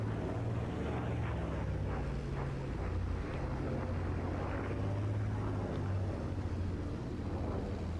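Low, steady engine rumble of a WWII-era aircraft taxiing toward the runway at a live outdoor event, propeller drone persisting throughout with wind buffeting, heard from a distance.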